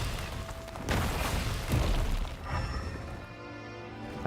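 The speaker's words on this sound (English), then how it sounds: "Oh, it's a wall I can destroy." A destructible wall breaking apart in Genshin Impact, a loud booming crash with crumbling debris that rumbles for a couple of seconds before settling into a quieter tail.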